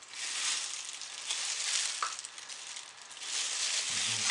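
Soft scraping of dark blue soap colorant out of a small container during soap making, a steady gritty rasp with a brief click midway, close and fairly quiet, with no voices.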